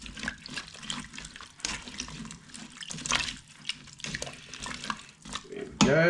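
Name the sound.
water poured into a cooking pot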